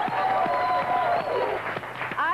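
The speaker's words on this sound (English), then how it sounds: "Let's have one more round of applause for these guys." A game-show audience at a spring break event claps and cheers for the contestants, with excited voices and shouts mixed into moderately loud, uneven applause.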